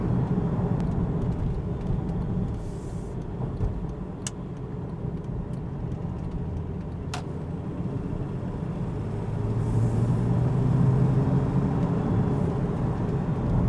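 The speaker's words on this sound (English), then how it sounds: "shifting down, going up to the fourth gear, and back down, just working it like you would" A Porsche 911 997.1 Carrera S with a six-speed manual gearbox drives through shifts, its engine droning steadily and swelling in pitch near the end as it revs, with a few faint clicks inside the cabin.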